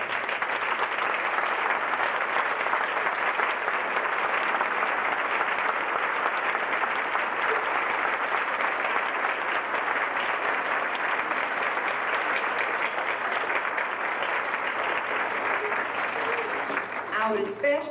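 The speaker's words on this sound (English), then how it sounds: "let's recognize them with a round of applause for all the help they've given us" Sustained audience applause fills a 5th grade graduation ceremony, a dense, even wash of clapping that continues steadily without pause from start to finish.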